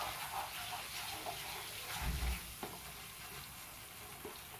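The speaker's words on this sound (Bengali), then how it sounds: "এইভাবে নাড়িয়ে আমি সমানে নাড়িয়ে যাব" A mixture cooks in a pan while being stirred continuously to dry out its moisture, a faint steady sizzle with occasional soft scraping knocks from the spoon, no voices.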